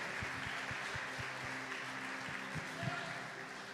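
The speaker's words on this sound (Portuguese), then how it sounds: "Aplauda o Senhor" A church congregation claps under a pastor's sermon, the applause sitting steady and fairly distant beneath rhythmic low pulses that may be music.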